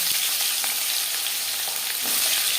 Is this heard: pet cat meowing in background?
no